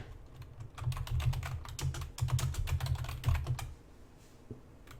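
A computer keyboard typing a search query: a rapid, close burst of key clicks lasting about three seconds, then stopping, with a lone tap near the end and no speech.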